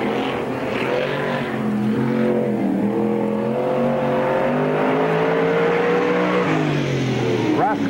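The number 59 dirt-track race car of Russ Schoonover Jr. roars down the back stretch at Spoon River Speedway during the 1999 Summer Nationals, its engine loud and close, rising and falling in pitch, under announcer commentary.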